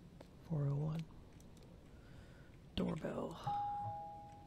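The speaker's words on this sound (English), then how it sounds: "Doorbell." A doorbell rings inside the horror game Night Delivery, a clear electronic chime standing out in a quiet interior, with a speaking voice just before it and a sustained tone trailing after.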